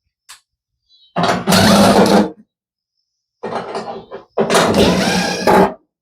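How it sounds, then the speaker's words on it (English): A power screwdriver removing screws from the top panel of a Kenmore/Whirlpool dryer, two close whirring bursts, each a short spin then a longer steady drive, separated by silence. "then you want to remove these 2 screws right here"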